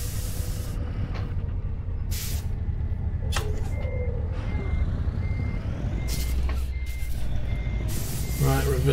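A truck in Euro Truck Simulator 2 gives steady repeating reversing beeps over a constant engine rumble and a brief hiss like an air brake, with a voice talking over it.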